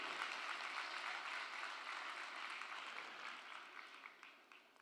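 An audience at a business networking summit applauds, producing a steady, dense wash of clapping that holds for several seconds and slowly fades.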